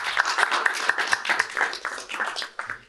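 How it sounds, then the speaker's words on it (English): A live podcast audience gives a short, moderate round of applause, scattered hand claps fading out over a few seconds. "round of applause, I think."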